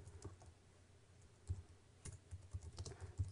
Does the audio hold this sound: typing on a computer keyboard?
yes